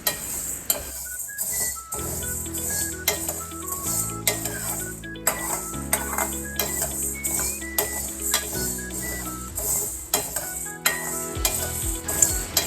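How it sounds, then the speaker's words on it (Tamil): Black urad dal roasts in a pan while a utensil stirs it, with a dry rustle and frequent metallic clinks and scrapes against the pan. Background music plays underneath throughout. "உளுந்து இப்போ கொஞ்சம் வறுபட்டு வருதுங்க, வாசனை வருது."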